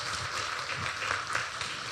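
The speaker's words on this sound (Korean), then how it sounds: "박수를 좀 주시기 바랍니다" A church congregation applauds during a Thanksgiving service, a steady wash of many hands clapping at moderate volume for a couple of seconds.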